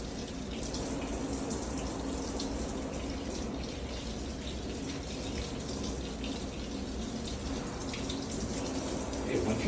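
Running tap water streams continuously into a sink while arms are rinsed during a surgical scrub-in before entering the operating room, an even splashing flow that stays close and steady throughout, with no talking.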